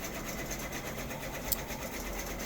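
A Brother Entrepreneurship Pro X embroidery machine hums steadily while tracing a design, its moving needle giving a continuous mechanical whir with a faint rhythmic pulse.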